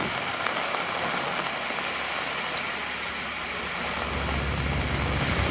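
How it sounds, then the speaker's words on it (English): Heavy rain and gusting wind on a downtown city street, heard as a steady, dense broadband wash with a low rumbling roar from wind buffeting, continuous throughout with no talking. "The rain is no problem when you got an umbrella, but the wind, that's the thing that causes the trouble."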